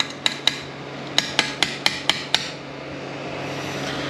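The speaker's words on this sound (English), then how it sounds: "You just put it on a slide hammer." Sharp metallic slide hammer impacts pull a capsule from a TH700R4 (4L60) automatic transmission, with about eight close, loud knocks in quick uneven succession over a low background hum, no talking.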